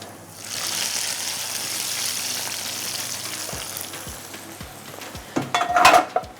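Tadka tempering for achaari daalcha sizzles loudly and steadily in a hot pan, and several sharp clinks of a spoon against the metal come near the end. No one speaks.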